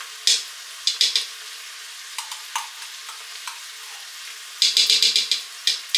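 A spoon scrapes and clacks in a pot of ground beef, garlic and tomato paste in short, irregular bursts separated by near silence, with a quick run of strokes near the end.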